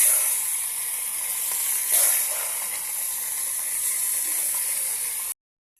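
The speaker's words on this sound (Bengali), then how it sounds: "মাছগুলি ফ্রাই করে নেব" Small chapila fish being lightly fried in hot oil, giving a steady, loud, close hiss and sizzle that continues unbroken for about five seconds, then stops abruptly.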